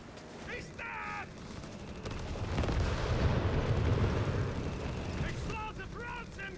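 Explosive artillery rounds rumble and crash in the Company of Heroes video game during a Wehrmacht coastal battle, swelling into a loud, sustained roar, with shouted voices over the top at the start and end.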